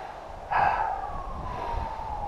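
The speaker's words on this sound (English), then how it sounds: "There's a siren." A distant siren wails faintly through a yoga session, rising abruptly then settling into a long, gradually falling tone beneath the room's steady background hiss.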